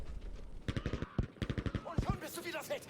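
Battlefield 5 gunfire from a competitive Frontlines match, with rapid automatic bursts crackling close and loud, then a few scattered shots trailing off beneath a voice speaking over the action.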